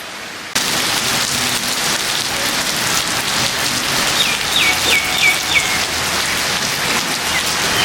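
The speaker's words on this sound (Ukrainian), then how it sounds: "поплавали трошки під дощем" Steady heavy rain falls on a surface close by, a dense unbroken hiss that begins abruptly and continues throughout, with faint bird chirps briefly audible in the background.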